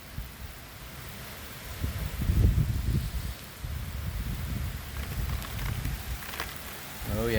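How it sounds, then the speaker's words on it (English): A summer downpour during a heatwave in Bath, Maine, hisses steadily on surfaces nearby. The patter swells and eases in waves under a dense background wash, with no talking. "here comes that rain"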